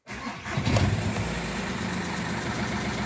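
An Audi A2 engine cranks and catches right after an oil change, then settles into a steady, even idle that hums on without a break.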